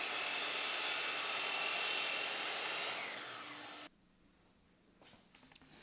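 A power saw cutting wood for a floater picture frame gives a loud, steady whining rip that fades over a few seconds and stops abruptly, leaving faint workshop clatter.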